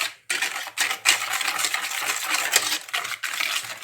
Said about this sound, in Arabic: غادي نخلط كلشي غير بالضرب اليدوي